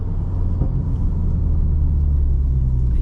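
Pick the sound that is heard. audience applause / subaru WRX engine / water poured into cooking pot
subaru WRX engine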